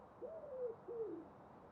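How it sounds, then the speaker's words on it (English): A low, soft owl-like hoot sounds twice in the Farming Simulator 19 game on the alpine Erlengrat map, each call gliding slightly downward, faint over a quiet ambient background. "I thought I heard like an owl."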